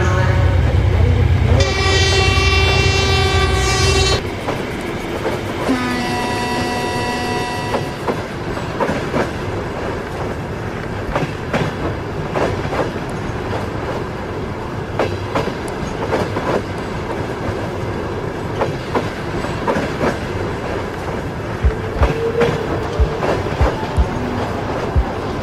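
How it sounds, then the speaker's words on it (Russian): A train departs a station platform. Loud horn toots come first, then a steady clickety-clack of wheels on rails continues under echoing station ambience, with no talk. "с 1 пути отправляется поезд номер"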